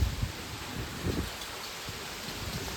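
Rain falls steadily through a windstorm in a rural Gujarat setting, forming a soft, continuous hiss with low wind rumble and a few heavier gusts near the start.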